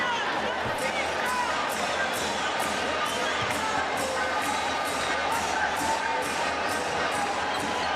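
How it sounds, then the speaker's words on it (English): An arena crowd at a women's African basketball championship game between Angola and Rwanda keeps up a loud, steady roar of cheering and chanting, with rhythmic beats pulsing through it. "The crowd's incredible."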